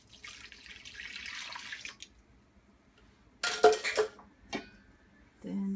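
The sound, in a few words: water added to sourdough bread dough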